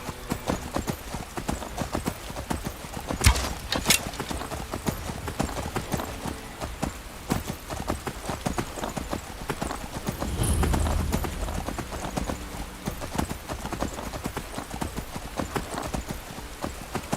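Horse hooves clip-clop steadily and close in the video game Skyrim, a continuous trotting rhythm with a brief whinny-like burst midway and faint talk now and then.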